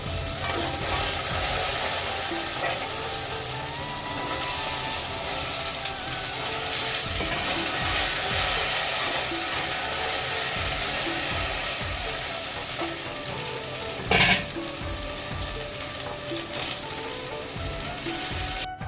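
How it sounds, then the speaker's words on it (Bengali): Taro and potato pieces fry in hot oil with a continuous sizzle, interrupted by repeated scraping stirs and a brief louder clatter near the end. "কচুটা আর আলুটা ভাজছি"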